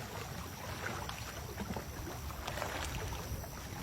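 A boat moves across Mahudand Lake in Kalam with a steady wash of water and wind noise throughout. No one speaks.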